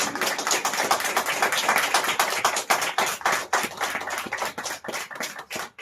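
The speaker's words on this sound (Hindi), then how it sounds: "आइए हम अपने प्रभु के लिए, यीशु मसीह के लिए जोर से तालियां बजाकर उसका धन्यवाद करें" Church congregation at a prayer meeting clapping loudly and steadily, a dense continuous roar of many hands with sharp overlapping slaps throughout.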